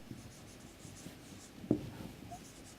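Handwriting of dimensions for an informal housing topic, a soft continuous scratch of a pen on paper with one sharper tap partway through, close and quiet, with no talking.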